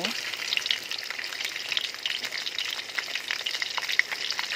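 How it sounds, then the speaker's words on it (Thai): Beef frying in hot oil to be eaten with sticky rice, a steady dense sizzle and crackle with small pops, close and continuous, no voices. "ทอดเนื้อกินกับข้าวเหนียวจ้า"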